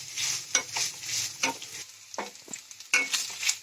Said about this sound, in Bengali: সব মশলাগুলো আমার ভাজা ভাজা হয়ে গেছে